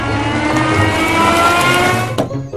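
A car engine runs loud and close with a steady droning hum and some revving before it cuts off abruptly as the vehicle is parked.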